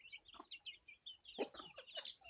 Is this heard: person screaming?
no